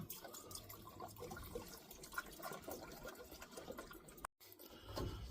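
Liquid trickles and pours into a container, a faint, close, uneven stream with a brief dropout near the end and a small burst of splashing afterward, with no speech.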